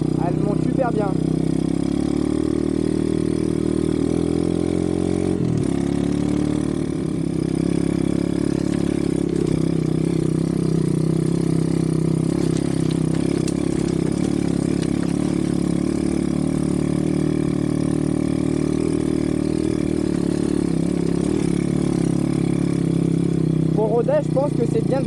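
A dirt bike engine drones steadily at a constant throttle in third gear while climbing, with a brief dip in revs and an exhaust rumble running throughout.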